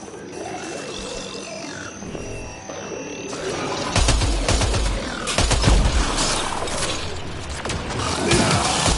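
Gunshots ring out in a video game as a device is shot apart, a quieter stretch at first, then a loud, rapid run of overlapping shots and impacts from about four seconds onward.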